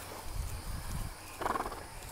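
A horse moving on the ground during groundwork training for lead departures gives a few faint, soft hoof thuds, followed by a brief higher scuffing sound.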